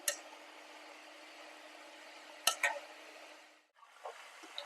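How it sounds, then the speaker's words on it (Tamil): Raw banana slices fry in hot oil for a Palakkad-style sharkaravaratti, with a steady sizzle and a couple of sharp stirring scrapes partway through before a brief lull. "முறுமுறுன்னு வேகிற வரைக்கும் இந்த மாதிரி நல்லா கலந்து விட்டு வேக வச்சுக்கோங்க."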